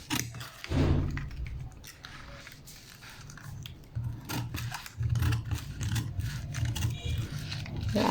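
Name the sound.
cutting out the bodice pattern, starting at the shoulder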